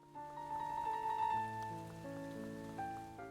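Indoor rain patters steadily in the Umbrella Academy level of the video game Funko Fusion. The soft, even hiss sits beneath slow, sustained somber music.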